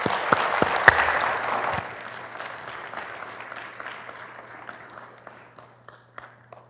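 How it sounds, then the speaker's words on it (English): Audience applause for people who had just been up front at a church gathering, loud clapping at first that thins into scattered claps and fades out, with a low steady hum underneath. "Can we give them a round of applause, please?"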